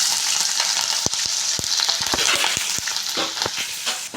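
Green chillies and onion frying for gongura dal with a steady, close sizzle, broken by sharp clicks and taps of a spoon stirring in the pan.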